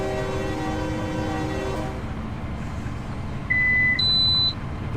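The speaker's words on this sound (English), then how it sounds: "Here comes a distance counter noise, which is really cool." PTC distance counter in the Run 8 train simulator game, Norfolk Southern freight train: short electronic beeps, one then a higher paired tone, ringing over a low steady locomotive rumble after a tonal hum cuts out.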